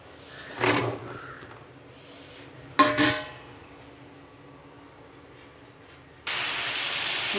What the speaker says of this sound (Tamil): தக்காளி வெங்காயம் பூண்டு நல்லா வணங்கிட்டுருக்குதுங்க